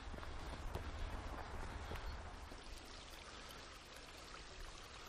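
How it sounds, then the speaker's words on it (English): Small waterfall on a fell in the Lake District, a steady rushing and splashing of water that stays loud and continuous throughout, close by with no voices. "Just arrived at a very scenic and quaint waterfall."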